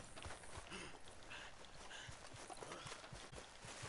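Horse hooves clip-clop in a steady walking rhythm in the video game Red Dead Redemption 2, faint and close, with soft ambient game sound underneath.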